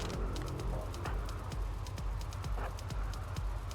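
Horses in the video game RimWorld, with repeated hoof clip-clops in a steady trotting rhythm, fairly close and clear, and faint neighing mixed in.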